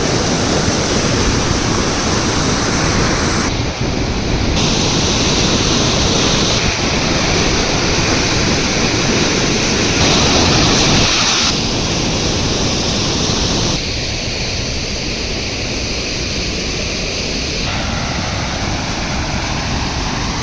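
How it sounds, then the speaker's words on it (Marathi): Loud, continuous roar of floodwater pouring over a weir on a river bypass dam, broadband and steady throughout with a faint wind rumble. "त्यामुळे या पुलावर महापूर आला।"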